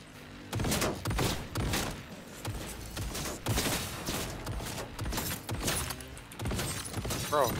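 Turret gunfire in Cyberpunk 2077, a steady barrage of loud shots with shattering impacts that keeps going, and talk mixed in with the shooting.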